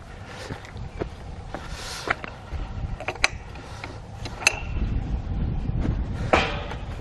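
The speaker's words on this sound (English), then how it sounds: "this is the easiest gate to undo" A gate on the England Coast Path between Bamburgh and Holy Island Causeway is unlatched and swung open, giving a series of close metallic clicks, clanks and creaks over outdoor wind rumble.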